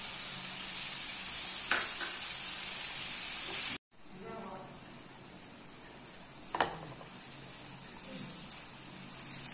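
Carrots, beans, capsicum and cabbage sizzle in a hot pan for millet noodles, a steady bright hiss with a short break and a few stirring clinks, and faint talk now and then.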